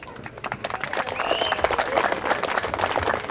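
Wedding guests applauding the bride and groom at a celebration in Huayllabamba, a dense, continuous round of clapping from a crowd, fairly loud and building slightly, with a voice over it.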